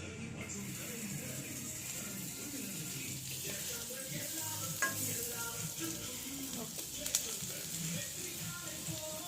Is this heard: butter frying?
yes